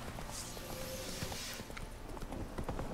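Horse hooves clip-clop as an armored, barded horse moves in The Witcher 3: Wild Hunt, with a steady rhythmic beat of steps under dense game ambience and music.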